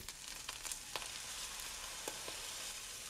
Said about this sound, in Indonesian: Aduk dan tumis sebentar biar tepungnya juga matang.